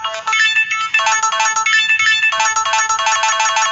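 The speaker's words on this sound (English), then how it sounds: "I want the intro to be played by the battery low sound." A low-battery alert tone repurposed as a melody instrument, playing a quick bright tune of short repeated beeping notes, clear and alone.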